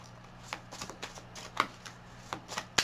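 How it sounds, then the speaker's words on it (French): Tarot cards being shuffled by hand, heard up close as a series of soft, papery riffles and flicks arriving in irregular bursts over a quiet room hum. "je vais prendre mes cartes"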